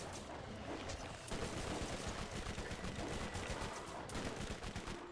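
Sustained rapid gunfire from the video game Borderlands, a dense, steady stream of close, loud shots running through the whole stretch with no talk over it.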